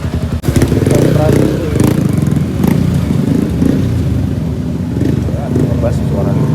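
A motorcycle fitted with a deep, bassy aftermarket exhaust rumbles loudly and continuously close by, its low throb steady under someone talking over it.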